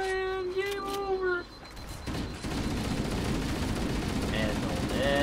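Gunfire in Halo: Combat Evolved, a dense burst of shots and battle noise starting about two seconds in and continuing steadily to the end, following a musical tone at the start, with an occasional voice heard briefly.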